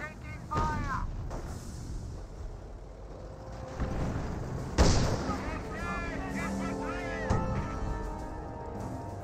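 Landmines blow up amid gunfire during a Company of Heroes battle, with sharp blasts and crackling shots, the biggest bang landing near the middle, under steady talk.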